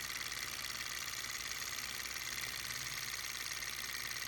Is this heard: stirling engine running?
yes